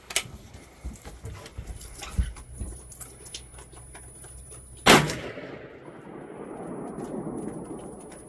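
A hunting rifle is fired at 100 yards on an outdoor range while being sighted in for hunting. One sharp, loud shot cracks midway with a rumbling tail, after scattered softer knocks and handling noises.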